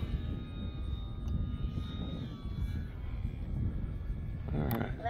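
A Dynam FW 190 Butcher Bird radio-controlled model plane in flight with landing flaps deployed: a steady electric motor whine and propeller buzz with a constant background roar, pitch shifting slightly, ending in a brief sharper burst.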